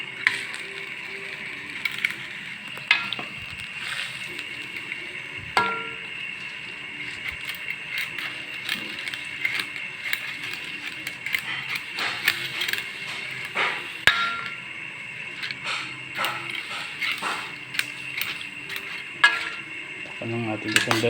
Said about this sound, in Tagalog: Kaya nilagay na natin ang pansit.